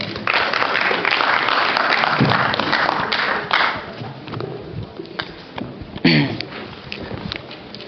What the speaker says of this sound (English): please give a huge round of applause once again for the mentor and the global ambassador, Mr. Monce Abraham